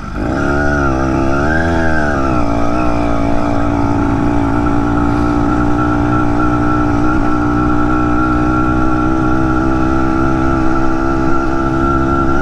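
Small BT100 two-stroke engine on a motorized Huffy bicycle drones loud and close throughout a ride, its pitch wavering briefly early on and then holding a steady buzzing run.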